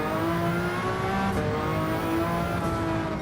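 A V12 Aston Martin howls through a racing video game, its loud engine holding a steady high-revving drone with no voices over it.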